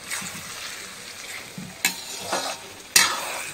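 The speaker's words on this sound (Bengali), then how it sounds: "এর ভেতরে দু রকমের মাংস আছে, সব একসঙ্গে কষিয়ে নেব।" Two kinds of meat sautéing with fried onions in a pan, under a steady close sizzle, with stirring scrapes and a few louder bursts of frying as the pieces are turned.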